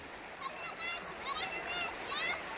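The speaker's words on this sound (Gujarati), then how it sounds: "આ છોકરા નાખે નીકળ્યા પાણીમાં પાણા" Children throw stones into a canal swollen with rainwater in a village, sending splashes into steadily rushing water while children's voices and talk carry over the flow.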